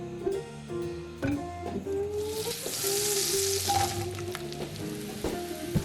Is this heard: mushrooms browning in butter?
yes